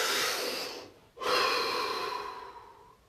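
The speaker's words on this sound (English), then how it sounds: "Deep breath." A person takes a deep breath, a long airy exhale, a brief pause, then a full inhale that trails off softly, close and alone.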